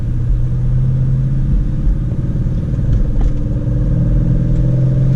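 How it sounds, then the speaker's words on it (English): A manual car shifts into second gear, heard as a loud, steady engine rumble and drone from inside the cabin, with only a slight change in tone partway through. "Foot on the clutch, switching to second gear, letting go slowly"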